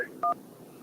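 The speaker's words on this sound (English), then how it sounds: "Let's jump back to the phone lines before I don't know." A single short touch-tone telephone beep on a call-in radio show's phone line, heard briefly and cleanly over a faint, quiet line.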